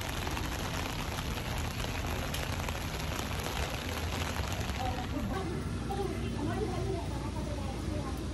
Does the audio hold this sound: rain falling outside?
yes